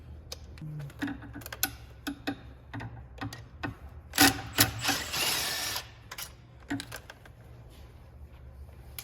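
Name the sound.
loosening injector bolts with external Torx size 10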